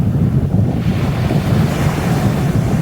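Sea waves breaking and washing steadily on Holcombe beach, a continuous loud surf roar with wind buffeting the microphone, no voices.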